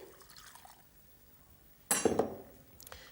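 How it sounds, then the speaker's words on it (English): A short splash of fish stock pours into a pan, a sudden wet gush lasting about half a second after a quiet stretch. "And then you can add the rest of the fish stock,"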